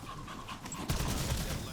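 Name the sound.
zombie panting like a dog in Call of Duty BO7 Zombies video game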